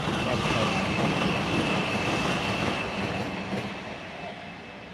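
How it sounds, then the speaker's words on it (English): A Northern passenger train rolls past on the nearest track, a loud, steady rumble of wheels with clickety-clack and a faint squeal, fading slightly toward the end. "we're going to get a northern train on the track nearest to the camera first"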